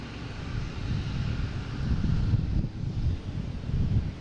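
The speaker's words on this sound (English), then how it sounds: "Also have that JetBlue backing out in front of us there." A JetBlue airliner at Boston Logan International Airport, heard as a steady broad jet engine roar with low rumble and some wind buffeting on the microphone, continuous and moderately loud throughout.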